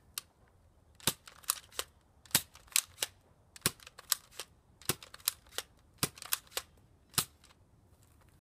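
Modified Nerf Maverick blaster firing Elite darts, a rapid run of sharp, snappy pops and clicks at an uneven rhythm, fairly close and alone without talk.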